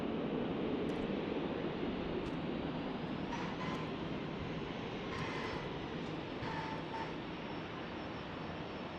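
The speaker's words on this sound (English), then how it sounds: "Alaska Airlines landing, and looks like an Alaska Airlines about to take off" Steady broadband roar of an Alaska Airlines airliner landing and another about to take off at a San Diego airport, a continuous distant jet rumble that fills the whole stretch with faint whines rising above it.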